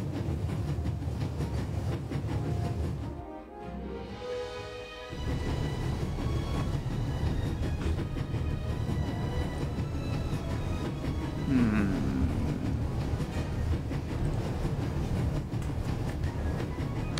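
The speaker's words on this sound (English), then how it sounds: "There's nothing quite like traveling on a train." Steady train travel in the video game The Raven: a continuous low rumble and rolling rail noise fills the whole stretch, with a brief dip in level midway before the carriage sound resumes at an even, close volume.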